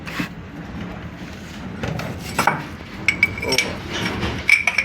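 A worker tightens gearbox bolts with a tommy bar while fitting a gearbox to a Tata BS4 bus, giving clanking metal knocks and clinks over a steady workshop hum, with brief speech in the background.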